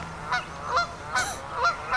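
Geese honk on a farm on a noisy morning, sounding a handful of loud, nasal calls in quick, uneven bursts close by, with no talking.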